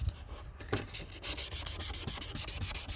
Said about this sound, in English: if you sand this carbon fiber